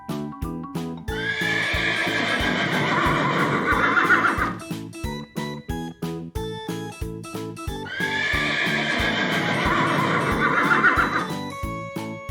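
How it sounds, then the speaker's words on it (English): Two loud horse neighs, each a long whinny with a shaking, descending tone, separated by a short gap filled with rhythmic clip-clop-like percussive beats; no voices present. "Horse."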